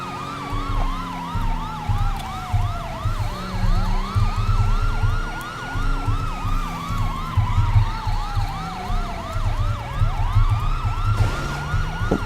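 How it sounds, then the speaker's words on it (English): Wailing police siren from a Fort Worth PD Crown Victoria Police Interceptor responding code 3 in GTA 5 with the LSPDFR mod, sweeping up and down continuously over steady engine and traffic noise, loud and close throughout. "So we go ahead and go there and go and code 3 and do siren."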